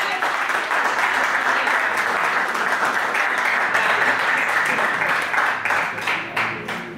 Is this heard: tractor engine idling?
no